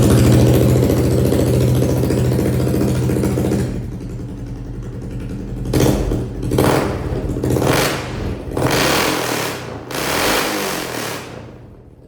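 A Honda CRF110 dirt bike fitted with a sprinkler-tube exhaust idles with a loud, steady low drone, then revs hard in several rising bursts close by.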